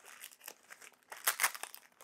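Crinkly plastic bag holding living sphagnum moss handled up close, with irregular soft rustles building to a few louder crackling bursts, no voices.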